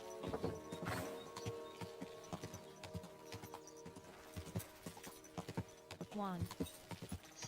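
Horse hooves clip-clop in the medieval video game Kingdom Come: Deliverance II, with uneven, repeated hoofbeats across the clip, a brief whinny near the end, and a voice talking over them.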